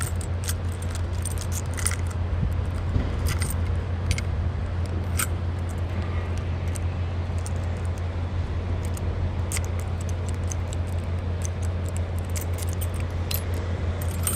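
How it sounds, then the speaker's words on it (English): A big bunch of keys jangles and clinks steadily as a trucker sorts through many near-identical keys, bright metallic rattles scattered over a constant low engine or road hum, with no talking. "Now I gotta find which key. I got so many of these"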